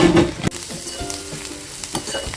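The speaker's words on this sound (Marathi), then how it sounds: "एक चमचा लाल मिरची पावडर आहे ती चांगली परतून घ्यायची" Red chilli powder frying with onion in a hot pan for an oyster masala, giving a loud sizzle that peaks in the first half-second, then a steady crackle with light stirring clinks throughout.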